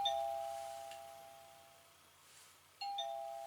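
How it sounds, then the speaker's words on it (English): Wireless door sensor chime receiver sounding its regular doorbell tone twice: a bright electronic ding that rings and slowly fades, then repeats near the end, with no other sound around it. "Kind of like the regular doorbell sound."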